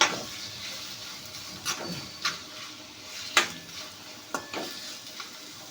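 Onions and tomatoes fry in oil for Gujarati chana dal masala: a continuous hiss with a few distinct spatula scrapes and clacks as the pan is stirred, close by and without speech.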